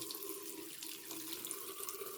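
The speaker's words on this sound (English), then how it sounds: "Now I'm going to open up a nearby hot water faucet and let it run out" Hot water faucet at a sink running steadily while draining a water heater, a constant close hiss and splash of flowing water with no speech.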